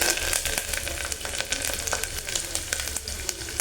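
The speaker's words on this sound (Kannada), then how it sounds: "ಇದು ಸ್ವಲ್ಪ ಫ್ರೈ ಆಗಬೇಕಷ್ಟೇ ಬೆಳ್ಳುಳ್ಳಿ" Garlic and curry leaves sizzling in hot oil, a steady crackling fry dotted with rapid pops and spits, close and unbroken with no talk.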